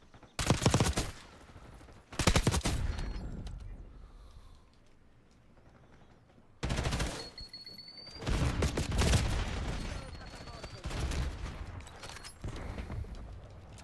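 Rapid gunfire from a weapon in a Call of Duty public match comes in loud, close bursts, each rattling for a second or two before sharp pauses, with heavy sustained volleys near the end.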